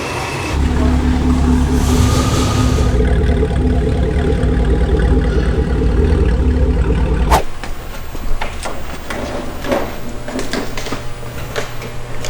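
A 2014 Chevy SS V8 fitted with a cam package idles loudly and steadily with a lopey rumble, then drops off sharply partway through, leaving quieter background sounds and some knocks.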